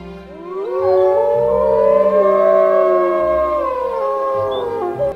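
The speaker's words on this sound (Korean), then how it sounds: "늑대의 소리예요" A single long, mournful wolf howl rising and sustained for several seconds before trailing off, with a low wind-like rumble beneath.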